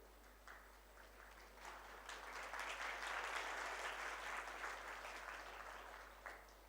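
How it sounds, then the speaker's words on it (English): A conference audience at an angiosperm taxonomy meeting breaks into sustained applause for the organizing secretary, a steady wash of many hands swelling and fading, heard faintly from a distance. "So this big applause indicates how much love we are given to Dr. Manudev."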